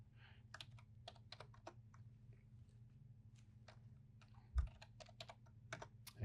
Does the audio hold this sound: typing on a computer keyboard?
yes